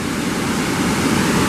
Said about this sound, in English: Pretty awesome falls.